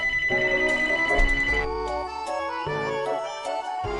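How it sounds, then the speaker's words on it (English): A mobile phone ringtone plays a loud, continuous electronic melody of bright tones, shifting pitch in a short repeating tune with no talk over it. "I hate it when I forget to turn off my phone before I start podcasting"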